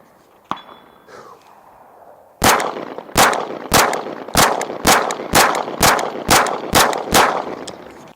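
Nine loud, closely spaced 9mm pistol shots firing Rocky Ford 124 grain hollow point rounds at a steady rhythm, preceded by a single sharp click and some quiet handling.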